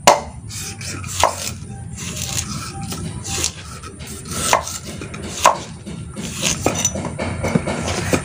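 A knife chopping and peeling areca nuts, sharp close cuts and clicks at an irregular pace, with scraping and light clinks between strikes.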